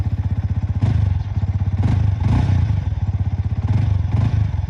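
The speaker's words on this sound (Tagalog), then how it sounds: "ganun yung tunog ng mga 155cc na motor" A 155cc motorcycle engine with stock muffler idles nearby with a steady, throbbing low putter, rising slightly in a few brief revs, no voices.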